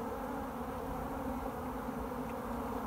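Honeybees hum at a hive with a full brood box and super, a dense, continuous close-up buzz with no pauses and no voices.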